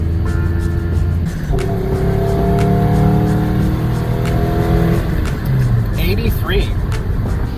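From inside a 240 car with a newly fitted exhaust, the engine note rises through gears while driving around town, a moderate steady drone with people talking over it.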